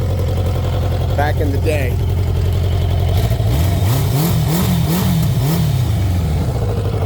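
Deep, rumbling note from the inline-four engine of a 1985 Kawasaki Eliminator, idling close by and then rising through several quick revs, with someone talking over it the whole time.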